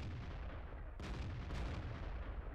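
Tank cannon fire in World of Tanks from the M53/55 battle, distant booming shots over a constant loud rumble of engine and battle noise, with two sharp reports close together.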